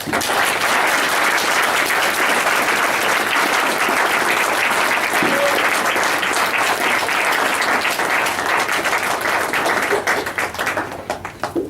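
Sustained audience applause after a poetry reading at Helicon West. Dense, steady clapping from a crowd fills the room and stays loud throughout, then thins and fades near the end.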